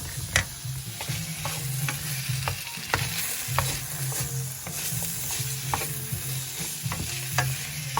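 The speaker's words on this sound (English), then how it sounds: "I figure we'll cook the bacon down a little bit without browning it" Bacon and potato cooking in a chowder pot, a steady close sizzle broken by repeated scraping stirs and clinks of a utensil against the pot, with no one speaking.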